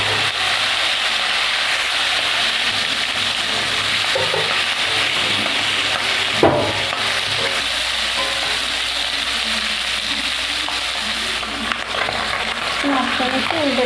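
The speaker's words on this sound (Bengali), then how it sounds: "এবার মাছগুলো ভেজে নেব।" Shing catfish, rubbed with salt and turmeric, fry in hot oil in a wok, giving a loud, continuous, close sizzle and hiss throughout, with a brief clatter midway and a few faint knocks near the end.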